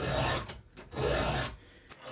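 A file rasps across a chainsaw chain during sharpening, with two long scraping strokes and a short third, close and fairly quiet.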